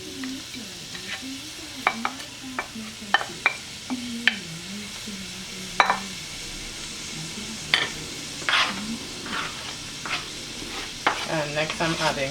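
Onions fry in a pan for stew pork, a steady sizzle with repeated scraping stirs and utensil clinks heard close up.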